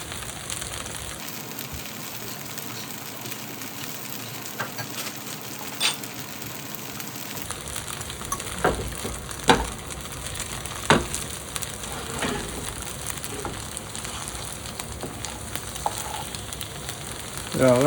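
Lacy cornbread batter frying in a hot pan gives a steady, close sizzle and crackle throughout, with occasional louder pops toward the end.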